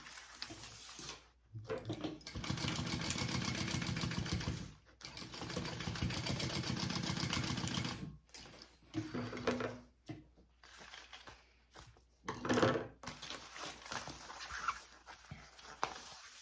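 A sewing machine stitches a bag lining along its full seam allowance, running in sustained loud bursts broken by short pauses, close by and without talk.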